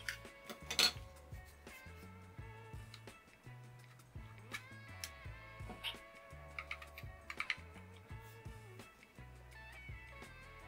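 Fingers typing on an iiglo MKX metal silent wireless office keyboard, a quick irregular patter of soft keystrokes with occasional louder clacks, close up and steady throughout.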